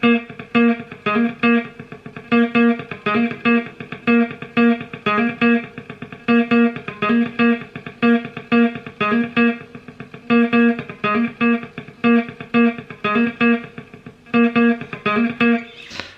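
Chugging electric guitar riff from a song with tight, rhythmic palm-muted notes, repeated in quick bursts with short gaps, steady and fairly loud throughout.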